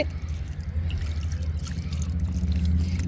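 Water poured onto a potted plant in a terrace garden, a steady trickling, splashing stream running continuously at close range with no voices.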